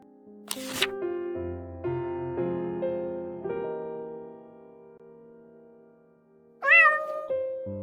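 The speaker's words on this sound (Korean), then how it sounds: "뭐야? 사이먼이 데려온 길고양이가" A stray cat gives a sharp, rising meow near the end, heard clearly over sustained musical tones and a brief crackly burst earlier in the passage.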